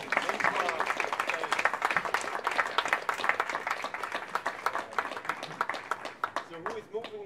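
A film festival audience claps at close range, the applause steady and dense throughout. Voices speak over the clapping now and then.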